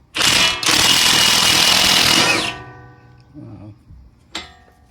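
A Ridgid 3/4 inch impact wrench with an adapter hammers loose the axle nut on a 2006 Honda Pilot 4WD, a loud, dense rattling burst that cuts out briefly and resumes for about two seconds, then quieter clicks and a short clank close by.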